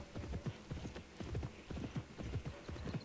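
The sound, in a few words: horse hooves in Pippa Funnel Ranch Rescue video game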